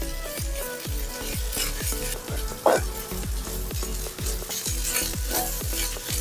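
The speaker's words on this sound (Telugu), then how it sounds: "ఇప్పుడు దాంట్లోకి హాఫ్ స్పూన్ అల్లం వెల్లుల్లి పేస్ట్ వేసుకొని ఇది కూడా పచ్చివాసన పోయేంత వరకు వేయించుకోవాలండి" Ginger garlic paste frying with curry leaves in a pan for egg curry, a steady loud sizzle broken by repeated rhythmic stirring scrapes, with no talk.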